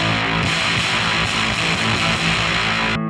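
Electric guitar through a Line 6 Helix distortion effect, a short burst of sustained, gritty, aggressive overdriven chord ringing loudly for about three seconds before cutting off.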